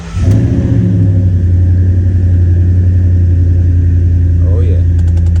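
A Ford Raptor pickup truck with a suspected blown head gasket cranks and fires, then settles into a loud, steady, deep engine idle that runs uninterrupted close by.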